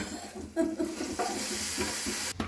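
A tadka tempering sizzles in a pan for Punjabi sarson da saag, a close, busy frying hiss with a sharp burst of crackle near the start and a brief clatter near the end, no one speaking.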